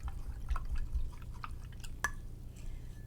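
Small drips and light splashes as a paintbrush is rinsed in a container of water during painting, faint and close, with a few scattered soft taps over a quiet background hum.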